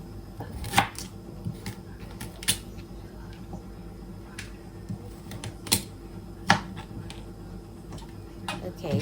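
A knife chops through carrots on a cutting board in sharp, irregular thuds, close and distinct against a quiet background.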